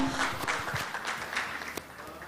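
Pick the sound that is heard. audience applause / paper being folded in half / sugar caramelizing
audience applause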